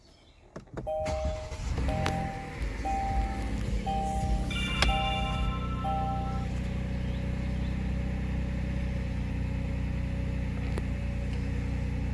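A series of electronic chimes sounds before the engine of a 2022 Kia Telluride SX SUV starts and settles into a steady, even idle nearby.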